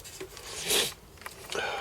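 Thin Kynar wire insulation is stripped by hand near an Amiga A500 repair bench, giving short close scraping and rubbing sounds with one louder pull in the middle, no speech.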